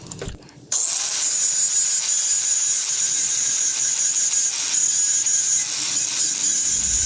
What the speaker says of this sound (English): can't believe that we gotta grind this off